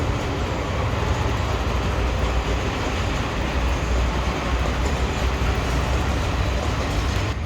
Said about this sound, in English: but there's a train that's going around.